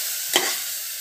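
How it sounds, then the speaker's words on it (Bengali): Spice masala of turmeric, coriander, cumin and Kashmiri chilli powder sautéing in oil in a pan, a steady bright hiss of frying with a single quick scrape of a spatula partway through. "এই মশলাটা থেকে ভালো করে কষিয়ে নিতে হবে"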